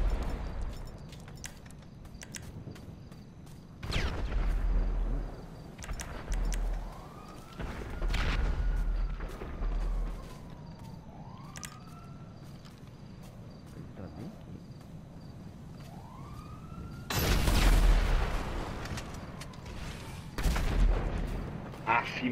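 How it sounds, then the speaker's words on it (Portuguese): Explosions in GTA V online after a small bomb is tossed between pipes: several heavy broadband booms, near and loud, separated by quieter stretches with rising siren-like sweeps and a faint background voice. "o bagulho explodiu lá atrás, velho"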